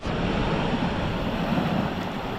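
Steady, loud rush of ocean surf washing onto the shore of Cagbalete Island, blended with strong wind buffeting the microphone, continuous throughout with no clear breaks.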